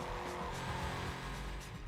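Dodge Charger SRT8 engine droning steadily in Need for Speed Carbon, a heavy, powerful car prone to understeer, with a continuous loud motor tone and hints of tire noise throughout.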